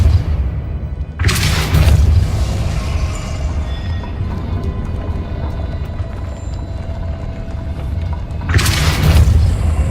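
Depulso force spell cast in Hogwarts Legacy: two heavy, booming blasts land near the start and near the end, with a low rumbling game ambience filling the gap between them and no voices.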